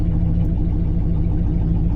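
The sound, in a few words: Lincoln Continental engine idling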